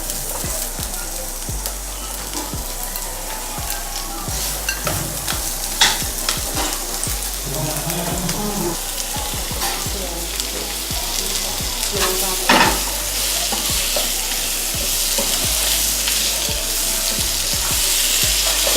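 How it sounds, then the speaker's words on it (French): Onions hiss and crackle as they fry in a pan, a loud, continuous sizzle with occasional stirring scrapes and clinks throughout. "dans la même poêle, on met Les oignons."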